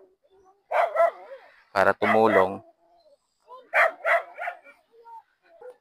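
A few sharp dog barks and yips, fairly close, in short bursts mixed with someone talking.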